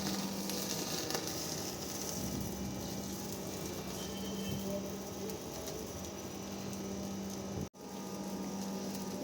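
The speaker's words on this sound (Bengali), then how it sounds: "এবার সেমভাবে টমেটোটা তেলে ডিপ করে এটাও আমাদের পুড়িয়ে নিতে হবে।" Oil-dipped tomato charring over a flame, a faint, steady sizzle and soft crackle with a low background hum, with a brief dropout near the end and no speech.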